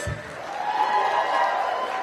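Applause and light cheering from a Colossalcon 2018 cosplay contest audience for the judges, a moderate continuous crowd wash with voices mixed in.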